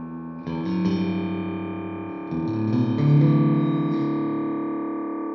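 Electric guitar through a BOSS DD-3T delay pedal set to short delay times, distorted notes ringing out with quick slapback repeats, loud and sustained with no talking.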